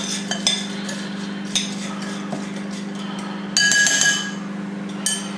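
A spoon clinks against a dish while mixing a beef and tomato casserole, with a steady low hum underneath and a few sharp clinks, including a brighter scraping burst near the end.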